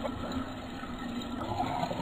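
Tap water running to fill a container in the video game Crazy Hangover, a short steady rush of flowing liquid heard alone without speech.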